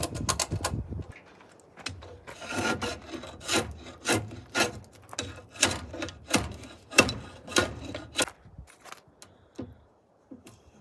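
A log end being hand shaved down from slightly over four inches to fit a tenon cutter at an off-grid log cabin build, with a steady series of rasping, scraping strokes, close and fairly loud, in an uneven rhythm.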